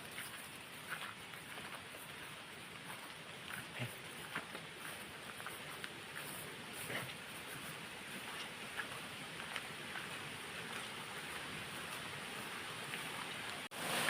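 Rushing water from a small forest waterfall in rainy monsoon weather, a steady broadband wash heard from a distance, continuous and fairly faint with no voices.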